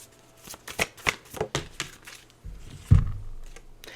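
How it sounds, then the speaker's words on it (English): Oracle cards being shuffled by hand, a run of quick riffling flicks and soft snaps up close, ending with a duller thump as the deck is set down or a card is pulled, with no talking. "let me pull some oracle cards"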